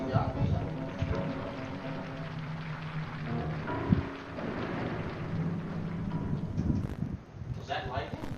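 Low rolling thunder rumbles with a rain-like hiss across several seconds, heard beneath people talking and other mixed background sound.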